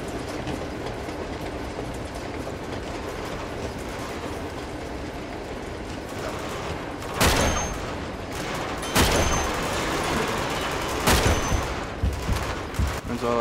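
Dragunov sniper rifle shots in Uncharted 2 ring out as three sharp, loud cracks spaced a couple of seconds apart over a steady rumbling game background.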